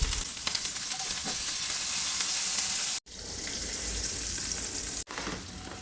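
Broken wheat (dalia) roasting in butter in a pan, a steady dense sizzle and crackle that runs on and on, cut by two brief silent gaps, close and fairly loud with no talking.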